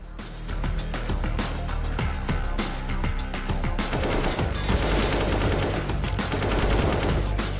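Sustained AK rifle fire in CS:GO on the Overpass map, rapid dense bursts running almost continuously, loud and close, layered with further overlapping gunfire and game noise.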